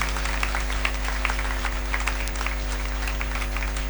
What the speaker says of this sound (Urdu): زوردار تالیاں جائیں جی